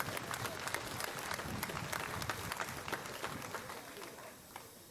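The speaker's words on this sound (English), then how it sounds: "So please give them a round of applause as well" Crowd applause at an outdoor political rally in Fraser Coast, a dense patter of many hands that fades toward the end, with some voices mixed in.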